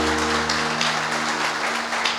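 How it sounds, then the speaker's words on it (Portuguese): Crowd applause fills a church gathering, a steady dense wash of clapping held at even loudness throughout, with a low steady hum running underneath. "Pode aplaudir"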